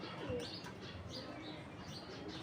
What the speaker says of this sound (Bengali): তো আরও 3টা কবুতর আসছে এখন, গড়রা একটা, কালদুম একটা, আর একটা অন্য আরেকটা কবুতর।